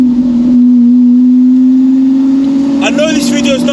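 A Lamborghini SVJ Roadster with a straight-piped exhaust drones steadily while driving, a loud sustained engine tone throughout, with a brief rise of rougher sound near the end.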